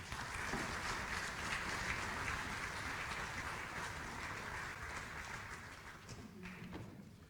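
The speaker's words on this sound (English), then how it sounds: "Another round of applause, please." A faint, steady wash of applause from a gathered audience at a formal event continues evenly, softening slightly toward the end.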